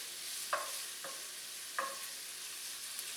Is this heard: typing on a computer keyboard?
no